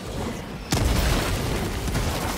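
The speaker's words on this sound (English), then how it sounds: "Throwing grenade!" A grenade goes off in Helldivers 2, one sharp loud blast cutting in after a steady background of battle noise, then a sustained rumbling tail under ongoing combat ambience.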